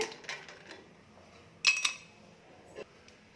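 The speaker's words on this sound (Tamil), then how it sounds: "ஐஸ் க்யூப் ஆட் பண்ணிக்கலாங்க." A few light, bright clinks of ice cubes dropped into a glass, one sharp cluster in the middle and a softer one after, in an otherwise quiet room.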